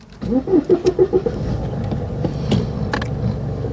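A car pulls away after a short series of rhythmic engine pulses, the motor settling into a steady low drone with a few sharp knocks and clicks near the end, fairly close and without any talk.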